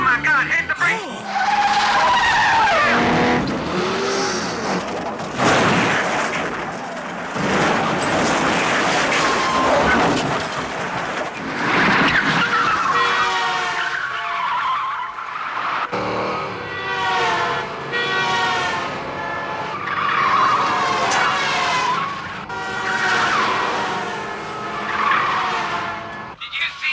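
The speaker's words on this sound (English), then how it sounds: "Oh my God, hit the brakes." A car brakes hard in a 1985 film scene, tires squealing and skidding in long screeching bursts mixed with engine noise, shouting voices and dramatic sound over nearly half a minute.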